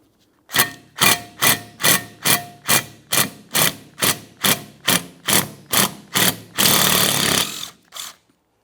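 Power tool rattling off rusted 10mm mounting bolts on a 2014-2019 Toyota Corolla front steering knuckle, a loud run of about a dozen evenly spaced impact bursts ending in a longer continuous whir and a final short burst, no talk.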